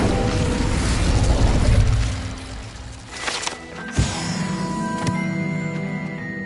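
The Incendio fire spell is cast in the game Hogwarts Legacy, a sudden booming burst over a roaring, crackling mix of game sound.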